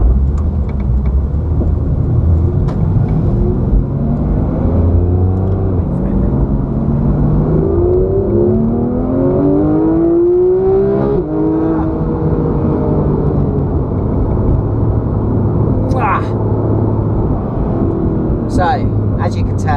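A Porsche 991.1 GT3 engine revs toward 9000 rpm, its loud, continuous note climbing in pitch through the middle and then easing back, with broad mechanical noise throughout.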